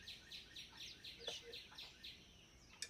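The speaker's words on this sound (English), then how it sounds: "I do have birds playing in the background." Birdsong plays in the background of a painting session, repeated chirping phrases in a steady rhythm, faint and distant, with no voices.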